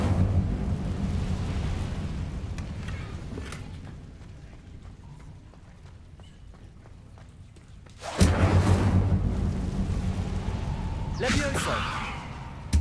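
The Incendio fire spell is cast in Hogwarts Legacy: a sudden roaring whoosh of flame bursts in loudly after a quieter, rumbling stretch and crackles on for several seconds, with someone talking at points.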